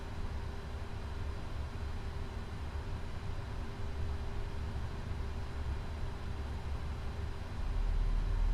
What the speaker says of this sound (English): Gonna go ahead and get the starter going for engine 2.